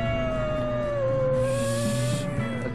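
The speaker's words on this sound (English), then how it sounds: "there's some wolves." Wolves howling in Red Dead Redemption 2, spotted on a ridge: one long, wavering howl holds steady and clear, with lower overlapping howls and some ambient game noise underneath.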